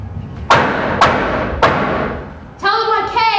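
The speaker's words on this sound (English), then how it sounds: "For he suddenly smote on the door, even louder, and lifted his head." Three loud, hard knocks on a door land at even intervals, each ringing out briefly, followed by a voice speaking.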